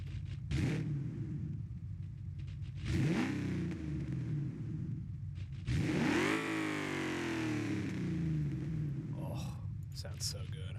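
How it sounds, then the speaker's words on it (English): A donk car with a heavy-duty engine block revs repeatedly in the BeamNG driving game. Three rising, roaring pulls climb and fall back, loud and close throughout. "so I can rev it if I want to."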